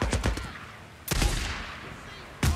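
Gunshots ring out in the game Days Gone, sharp reports coming in scattered groups with gaps of quiet between them, fairly close, with faint speech in the background.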